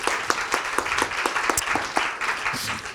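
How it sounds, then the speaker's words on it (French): A conference audience at an oncology partnership event applauds a speaker. Fairly close, crisp individual claps form a lively, uneven patter for about three seconds. "Et Mouna Champin, sous vos applaudissements aussi."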